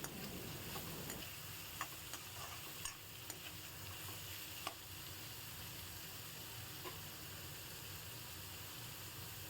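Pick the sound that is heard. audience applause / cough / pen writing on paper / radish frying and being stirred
radish frying and being stirred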